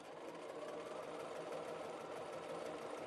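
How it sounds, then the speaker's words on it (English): A sewing machine stitches a quarter-inch facing seam with a steady, continuous whirring hum at an even speed, close by and alone without any pauses. "I'm stitching at 1/4 of an inch"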